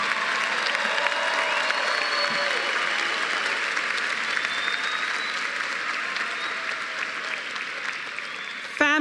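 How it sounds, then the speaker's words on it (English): Sustained applause and cheering from a large audience at a high school graduation ceremony, a dense steady roar of many hands clapping throughout, with no clear talking. "Let's hear a big round of applause for you"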